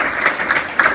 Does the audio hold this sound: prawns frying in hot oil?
no